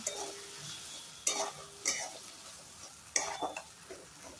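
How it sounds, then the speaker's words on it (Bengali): A spice paste of ground cashew, raisin and melon seed fries quietly in a pan while a spoon stirs it, giving a soft steady sizzle broken by several sharp scraping strokes. "দিয়ে এটা এবার আমি ভালো করে কষিয়ে নেব।"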